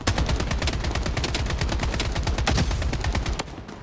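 Dense automatic gunfire from enemies in the shooter game Project Bloodstrike, rapid loud bursts rattling almost nonstop before cutting off near the end.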